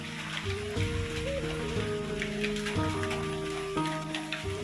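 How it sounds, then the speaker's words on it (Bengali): Light rain falls outside as a soft, steady patter, faint and distant, under a quiet background melody, with no one talking. "আর এখন দেখো বাইরে বৃষ্টি হচ্ছে অল্প অল্প"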